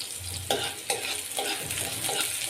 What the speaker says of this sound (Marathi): हिरवी मिरची छान भाजून घ्यायची आहे